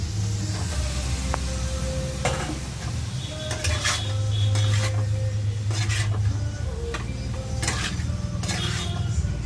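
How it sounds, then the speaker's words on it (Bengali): Boiled potatoes are stirred and mixed in a pan, giving steady clattering and scraping of a utensil against metal over a constant background hum. "সবগুলোকে ভালো করে একটু মিক্স করে নিচ্ছি।"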